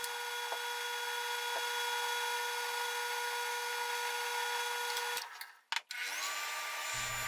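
Power tools drill a 1/16 inch hole in a wooden disc and cut out the inner centerpiece for a vortex bowl on the Accu-Slice system: a steady, close machine whine runs about five seconds, then breaks off with a few short rattles.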